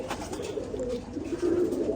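A Rampuri mix pigeon coos softly and close, a low continuous throaty murmur rising slightly toward the end, with no talking.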